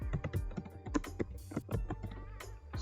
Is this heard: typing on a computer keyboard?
yes